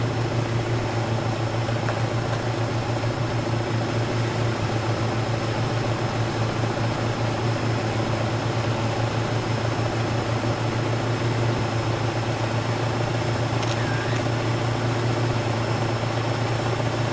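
A truck engine in Euro Truck Simulator 2 drones steadily at a constant pitch, hauling in third gear with a continuous low hum and no talk.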